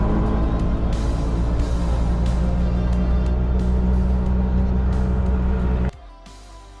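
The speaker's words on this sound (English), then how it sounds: "You can see here there are many autos." Auto-rickshaws and other traffic on a road in Katra, Jammu, a dense, continuous engine drone close by with faint horn-like tones, cutting off abruptly near the end.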